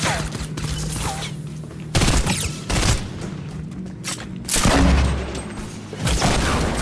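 Rocket launcher blasts and gunfire in Fortnite: loud, dense bursts of shots and heavy booms in several waves, close and overlapping, with no talk.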